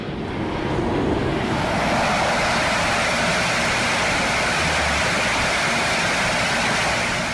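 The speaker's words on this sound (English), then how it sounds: "you'll see how these fighting Falcons demonstrate afterburner effects around the world" F-16 Fighting Falcon jet engine in afterburner, a loud, steady, broadband roar that holds unbroken and close for the whole stretch, like rushing surf.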